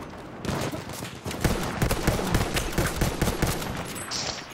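Gunfire in the first-world-war shooter Battlefield 1, a fast run of sharp cracks and thumps, mostly rapid automatic bursts at close range with dense battle noise around it.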